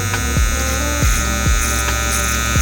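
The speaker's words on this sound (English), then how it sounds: "I'm using the Barber Slow Pro FX, and I'm gonna separate my beard from the sideburn area." A Barber Slow Pro FX hair trimmer runs during a home self-haircut, a steady close electric buzz with a humming drone and small dips in pitch as it moves through beard and sideburn hair.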